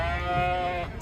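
A goat at a Kyzylorda livestock market gives a single clear, quavering bleat at close range, lasting about a second before a brief burst of noise.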